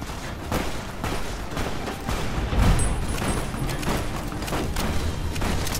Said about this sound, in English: Oh my god, they're firing on me?